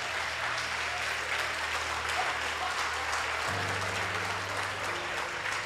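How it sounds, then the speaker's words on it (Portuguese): Church congregation applauding at a couples' service, a steady wash of clapping that holds at an even level throughout, with a low background hum shifting partway and faint voices mixed underneath. "Parabéns, aplauda ele aí, cara."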